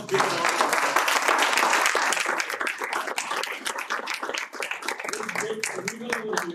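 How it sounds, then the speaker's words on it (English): Sustained applause from a crowd, a dense wash of many hands clapping that stays loud throughout and tapers slightly toward the end. "Let's give them a big round of applause."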